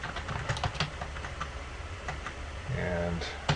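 Typing on a computer keyboard while filling in address fields in office software, rapid irregular clicks close by over a low hum, with a steadier patch of key presses near the end.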